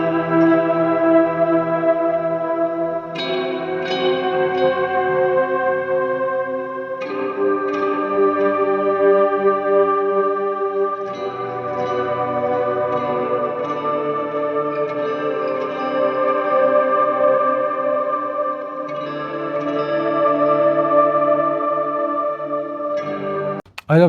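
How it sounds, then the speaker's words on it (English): Electric guitar run through a choral chorus pad effect on a Strymon BigSky, giving a lush, choir-like sustained tone with echo and reverb, playing slow melodic chords that shift every few seconds, loud and continuous with no talking. "It's called a choral chorus on the bigsky that gives a choir sound."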